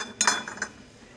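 Ceramic plates and dishes from a discount homeware store clink as they are handled, a few short bright knocks close by followed by a quieter rattle, with no talk.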